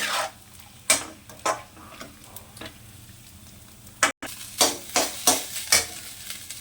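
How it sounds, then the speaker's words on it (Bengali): A spoon stirs red chili sauce in a frying pan over a faint sizzle, making repeated scraping strokes close by with short gaps between them and a quicker run of strokes near the end. "এখন আমি নাড়াচাড়া করব খাওয়ার জন্যে"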